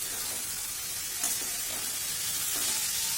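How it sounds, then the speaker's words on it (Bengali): Steamed cabbage is mixed into spices frying in a pan, producing a constant, fairly loud hissing sizzle with a couple of soft stirring scrapes and no voices. "ভাপিয়ে রাখা বাঁধাকপিটা এবার আমি দিয়ে দিচ্ছি। দিয়ে ভালো করে মিশিয়ে নিতে হবে।"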